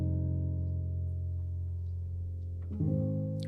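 Warm, soft sustained chords on a felted piano sound from Spitfire LABs Patina in a slow 70 BPM progression, low notes ringing and blending, with a chord change near the end; close and gentle, no talk.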